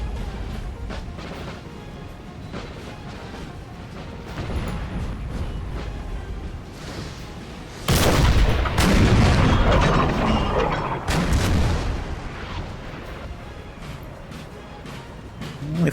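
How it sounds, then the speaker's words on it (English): Artillery fire in the Napoleon Total War video game: a low background of battle clatter, then a heavy booming volley that rumbles for several seconds before a second crash and a fading tail. "John's created a nice gap for me to fire my artillery through."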